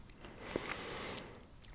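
Gum chewed close to the mouth in a quiet setting, with soft, moist smacks and small clicks repeating irregularly at a low, intimate level, with no talking.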